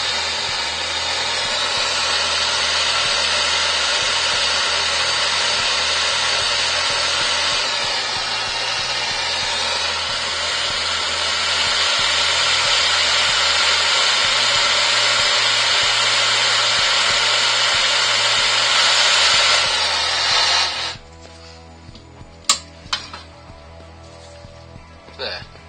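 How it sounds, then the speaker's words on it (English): Steady loud roaring hiss of a blowtorch flame scorching an ash bowl turning slowly on a woodturning lathe, running continuously for about twenty seconds before cutting off into quiet with a few small clicks. "Fire up the blowtorch."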